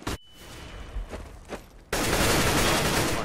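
Gunfire in the game CS:GO: a couple of isolated sharp shots early on, then a dense, loud burst of sustained firing that fills the rest.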